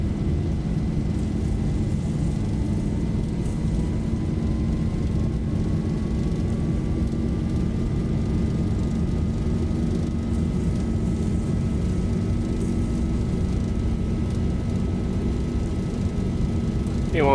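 A ZIBO Boeing 737-800 in the X-Plane 11 flight simulator makes its takeoff roll: a loud, steady, unbroken engine roar with a thin tone slowly rising in pitch as it gathers speed.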